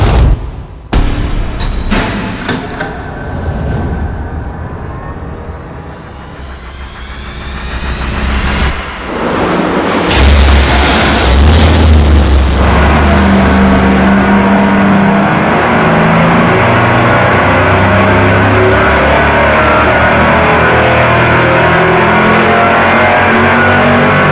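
A supercharged engine on a dyno cranks, fires up and revs hard, then settles into a loud, steady roar that holds for most of the stretch, with bursts of rising revs early on.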